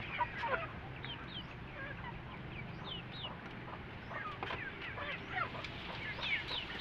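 Backyard chickens of Texas and Kabir breeds cluck and chatter in a soft, continuous flock, with short calls overlapping from nearby and farther off and no talk.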